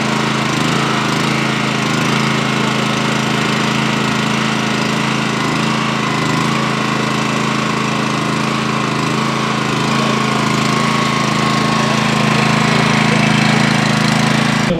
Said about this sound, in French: un groupe thermique qui va permettre de découper les montants ou d'écarter les tôles